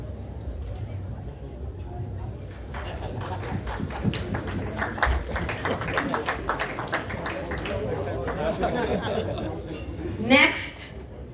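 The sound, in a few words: audience applause at Sikh American gala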